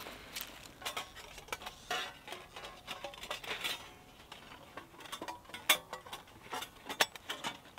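Metal ash plate being fitted into a Savotta Grumpy folding wood stove, with a run of light clinks, scrapes and small metallic clacks at irregular intervals, fairly quiet and close, no speech.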